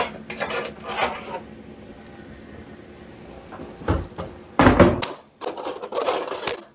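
Metal cooling racks clatter and rattle as they are handled and set down, with a couple of loud close clanks, after a stretch of quieter knocking and rustling.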